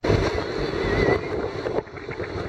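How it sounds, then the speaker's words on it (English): Strong wind rushing over the microphone aboard a sailboat motoring straight into the wind off Cape Hatteras, a steady loud roar with a faint engine and water wash beneath, no talk. "I'm going straight into the wind."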